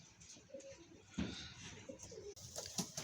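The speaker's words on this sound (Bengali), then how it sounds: "এই কি সুন্দর কবুতর, কি সুন্দর খামার।" Pigeons cooing at a pigeon farm, a few soft low coos rising and falling among light background rustle and faint chirps, fairly close, with no talk over them.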